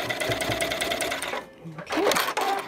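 Sewing machine stitching a fabric gusset, running in a fast steady whir, stopping briefly and then starting again, close by under a talking voice.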